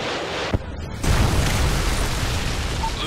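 A Predator missile strikes in a Call of Duty style multiplayer shooter, a sudden loud explosion after a brief lull that rumbles on as a dense, continuous roar, with no talk.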